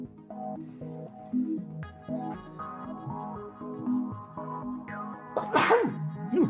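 A single loud, abrupt sneeze bursts out near the end, rising over ongoing background talk and music from a tabletop role-playing game session.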